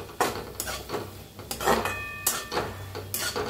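A spoon stirs and scrapes through a pumpkin and ambadi leaf vegetable dish with mung dal and two spoons of ground peanut powder in a pan. The clanks and scrapes come close, in a loose rhythm about every half second.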